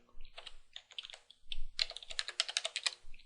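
Password entry on a computer keyboard while gaining root access in Linux: a quick run of close, crisp key clicks in irregular bursts, with a denser cluster toward the end and no voices.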